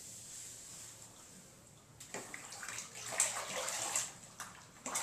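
A grout sponge is plunged, rinsed and wrung out in a water bucket while grouting a bathroom remodel, with splashing and dripping that grows louder midway and carries on to the end.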